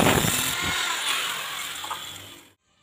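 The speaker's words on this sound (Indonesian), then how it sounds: "Sekarang kita potong menggunakan mesin gerinda." Angle grinder cutting through the shank of a drill bit, a loud harsh grinding screech that holds steady and then stops abruptly into silence.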